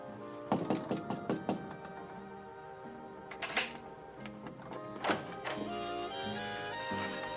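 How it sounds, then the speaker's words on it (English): A fist raps on a door in quick repeated bursts, pausing and then knocking again, heard from inside over loud music playing in the room. "I've been knocking out there"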